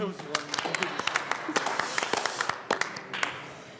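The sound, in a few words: applause for Mr. Randall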